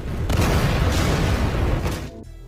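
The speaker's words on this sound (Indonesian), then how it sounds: "kapal tersebut meledak" A ship blows up in a zombie film, a loud, sustained roaring explosion with a couple of sharper bursts inside it, rumbling for about two seconds before cutting off abruptly.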